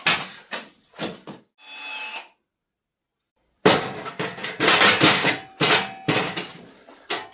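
Power tools working on a wooden top: a few short bursts and clatters, a brief whining cut, a silent gap, then a longer run of loud rough cutting and knocking, close by with no talk.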